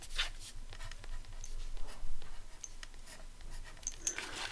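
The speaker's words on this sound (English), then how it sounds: "Let's write some things down." A pen writes measurements on paper while a journal is made from a Little Golden Book. The soft, close scratching comes in short strokes with small pauses, and no one speaks.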